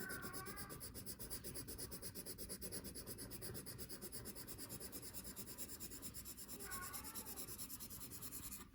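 Continuous, rhythmic scratching and rubbing of a watercolor pencil shading back and forth on paper, close and steady; a cat meows faintly twice.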